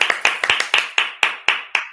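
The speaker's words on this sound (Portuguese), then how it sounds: "Aplausos para você." A rapid, even run of about eight crisp hand claps from a small number of people at a school teacher-education session, close and clear with no talk over them.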